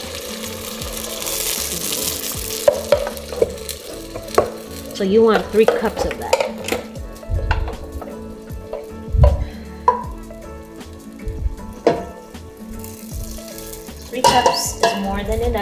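Nigerian jollof rice pepper mix sizzling and frying in a pot, stirred with a utensil that clinks and scrapes against the pan in irregular bursts, with a person talking briefly over the steady hiss.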